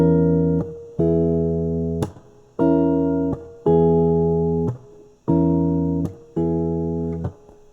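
Electric guitar plays a Lydian-mode phrase over an E root, with repeated sustained chord stabs and picked notes in a steady rhythm, loud and close with no talking.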